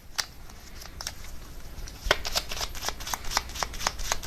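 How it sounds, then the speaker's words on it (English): Tarot cards being shuffled and drawn, with crisp riffling flicks and sharp snaps of cards, irregular and close, growing busier in the second half. "let me get one more card to clarify the Knight of Pentacles"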